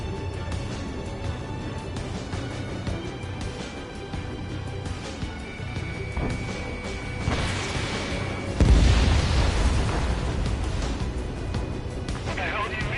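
Video game explosions destroy an anti-air radar vehicle: heavy booms and a loud crashing blast near the end, over a continuous rumble of battle, with talk running alongside.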